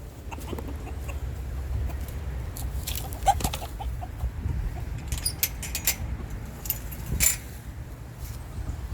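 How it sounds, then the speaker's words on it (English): Backyard chickens cluck softly as they are let out toward their feed, scattered low clucks over a steady outdoor hum, with a few brief metallic jingles and clanks. "And we're going to let the chickens out and see which ones they go to first."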